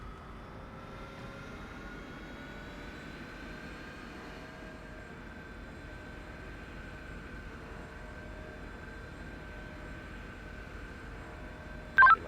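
An airplane carrying the President drones faintly and steadily, a smooth engine whine holding at one level throughout, with a short electronic beep right at the end.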